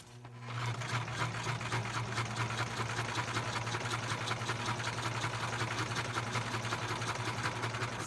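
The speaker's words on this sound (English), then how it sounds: "Stitching will add some texture and interest to the page." A sewing machine stitches through paper in one steady, continuous mechanical whir with a rapid needle rhythm. It starts just after the opening and runs close and moderately loud to the end, with no voices.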